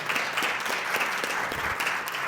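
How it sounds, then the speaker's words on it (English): Audience applause at a live Black literacy conference fills the room, a steady dense wash of many hands clapping at moderate distance with no voices. "Give them a round of applause"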